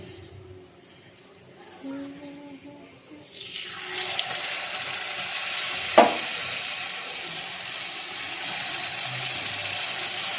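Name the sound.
gokul pitha frying in oil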